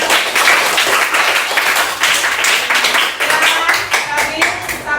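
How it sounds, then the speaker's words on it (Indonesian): Classroom of students clapping for a classmate, a brisk burst of many hands applauding nearby, loud and uneven with a few voices mixed in. "Sudah, tepuk tangan untuk Tania."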